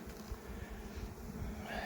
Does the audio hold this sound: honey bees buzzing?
yes